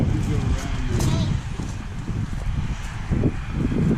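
Amish buggy horse in Lancaster County, Pennsylvania, with hooves clopping in a steady walking rhythm close by, mixed with rustling and outdoor wind while people talk over it.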